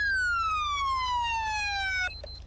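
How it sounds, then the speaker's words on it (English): A police car siren in a patrol video game, a single long descending wail sweeping smoothly downward, loud and clear, cutting off abruptly near the end with a brief electronic blip. "Lights and sirens are working."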